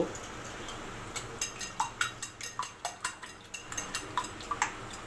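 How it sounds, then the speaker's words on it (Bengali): Eggs stirred and beaten in a pan for a Bengali egg jhuri, with a utensil clinking against the metal in a quick, regular series of light taps at close range. "ডিমগুলা একটু এরকম করে নেড়ে গুলিয়ে নেব"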